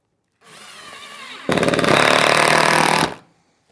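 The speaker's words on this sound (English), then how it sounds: "Install with 3 number 14 screws." A screwdriver drives a number 14 screw through an aluminum L bracket onto asphalt shingles, first whirring at lower load and then grinding loudly and harshly for over a second before stopping.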